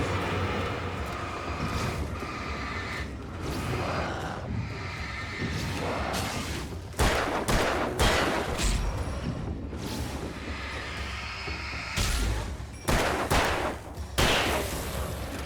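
Repeated gunfire bursts in the Alan Wake video game, a dense run of loud shots that grows heavier in the second half, with no talking.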